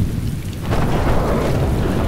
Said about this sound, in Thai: เฮ้ยฟ้าผ่าครับ